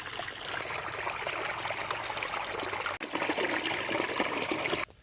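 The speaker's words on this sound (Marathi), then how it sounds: "पाणी बघा मस्त वाटतंय" A village stream in the Konkan countryside flows in a steady, close rushing babble that continues unbroken for several seconds, with a momentary dip near the middle and a sudden drop at the very end.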